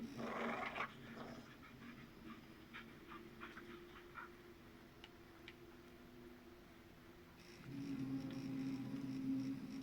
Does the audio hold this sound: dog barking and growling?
yes